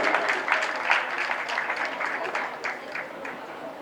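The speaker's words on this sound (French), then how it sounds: "on peut applaudir très fort pour tous les organisateurs de Vuga Festival." A festival audience at a slam poetry event claps steadily throughout, a dense close patter of applause with some crowd noise mixed in.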